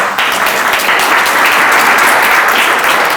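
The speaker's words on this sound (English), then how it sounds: "Everybody give them a hand of applause." A crowd applauds loudly and steadily, dense clapping filling the room without pause.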